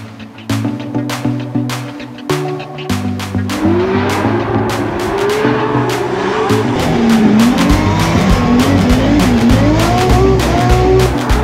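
A race car drifting with tires squealing, starting with a sharp revving engine in bursts, then sustained wavering squeal over a loud continuous engine roar, close and intense throughout.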